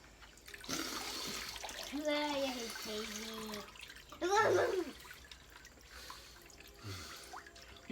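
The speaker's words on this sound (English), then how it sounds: "You pouring water on me?" Water poured over a person during an ice dunk, splashing and trickling in bursts with a louder gush midway, while a voice speaks briefly nearby.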